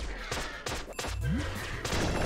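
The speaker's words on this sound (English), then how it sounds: "All right, firing more bullets." Gunfire from the video game Flinthook, a burst of several bright, close shots in quick succession over game music, with a short rising synth tone in the middle.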